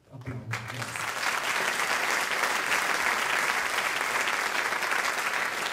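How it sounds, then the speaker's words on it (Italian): Sustained audience applause at an Italian music event, rising quickly after a brief spoken word at the start, then holding steady and dense for the rest. "Grazie Fabio. Applausi."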